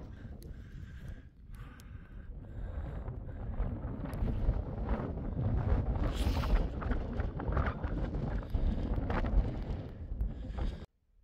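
Wind gusts on the Llanberis path up Snowdon buffet the microphone in a rough, rumbling roar that rises and falls, growing stronger midway before stopping suddenly.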